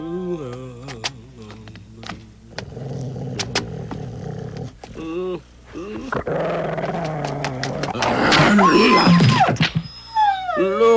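A dog growls and snarls in a Tagalog-dubbed Doraemon cartoon scene, the rough growl swelling loud mid-clip amid cartoon effects and overlapping speech.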